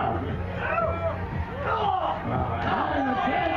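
Crowd noise at a midget wrestling match at the 2017 Florida fair, a steady dense hubbub of shouting voices with occasional whoops, loud and continuous throughout, mixed with an announcer's talk.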